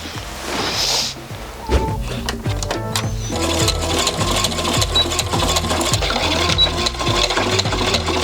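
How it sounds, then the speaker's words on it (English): A sewing machine stitches a seam on a fitted bustier dress, running in loud rapid bursts with short pauses and small clicks between runs, close by and with no talking. "pull those in an extra 1/2 inch, and then sew it down again"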